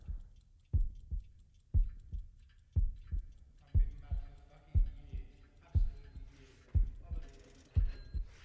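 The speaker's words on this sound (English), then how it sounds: "Bass drum and what sounds like a clock." Heartbeat-like bass drum thuds in steady lub-dub pairs with a faint ticking clock rising behind them, a slow building swell with a faint voice over it.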